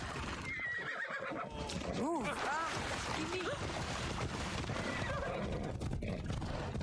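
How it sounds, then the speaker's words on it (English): Horses neigh and whinny in the Assassin's Creed Odyssey video game, with hoof clip-clop beneath and a constant busy game ambience throughout. "Oh, we're all riding horses."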